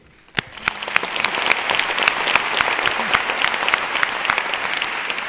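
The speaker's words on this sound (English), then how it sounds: "we applaud you" An audience at the Stop the Hate 2018 event at the Maltz Museum of Jewish Heritage applauds, a few scattered claps quickly swelling into sustained, dense clapping that holds steady throughout.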